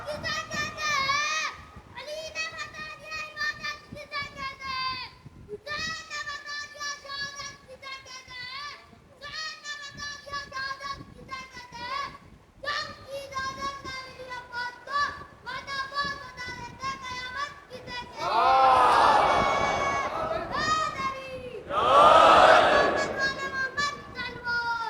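Children chanting slogans together at a majlis in an imambargah, repeated rhythmic call-and-response phrases, loud and close, building into louder crowd shouts near the end.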